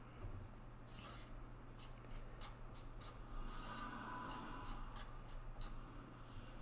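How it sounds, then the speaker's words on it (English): Pencil or marker scratching on paper while a picture is drawn, a series of short, quiet strokes in an uneven rhythm over a faint steady hum, with no talking. "So I'm going to draw a picture of my friends."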